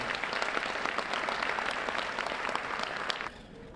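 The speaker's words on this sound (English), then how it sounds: "let's give one more applause for your president, Lisa" An audience at an annual convention gives applause for an outgoing president, a steady dense clapping that drops off sharply near the end.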